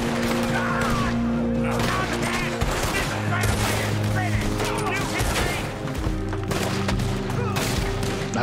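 Gunfire in Red Dead Redemption 2, a dense stream of rapid cracks and bursts layered over steady game music and ambience, loud and close throughout.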